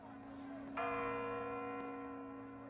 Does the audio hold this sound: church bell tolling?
yes